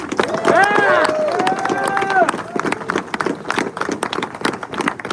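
A crowd at an airsoft event gives a round of applause for sponsors, with dense clapping and scattered cheers and shouts, loud at first and then thinning into uneven claps.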